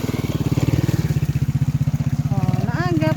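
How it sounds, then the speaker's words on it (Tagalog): A motorcycle engine putters steadily on a rural road near agricultural land, a loud rhythmic low throb close by, while someone speaks briefly near the end. "Oh, na motor ni agi."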